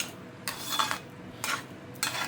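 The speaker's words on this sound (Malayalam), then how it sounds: "നമുക്ക് നന്നായിട്ട് മിക്സ് ചെയ്ത് കൊടുക്കാം" Payasam being stirred in a pot, with three scraping, swishing strokes of a spoon against the metal at a steady rhythm, close and fairly quiet.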